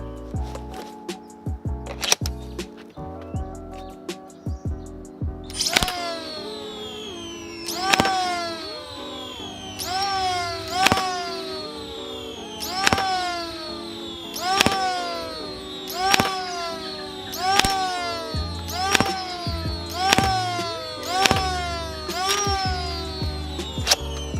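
Adventure Force foam blaster firing full-length Accufake darts, a series of sharp, evenly spaced shots about every couple of seconds, close and clear, after a few quieter mechanical clicks and handling sounds at the start.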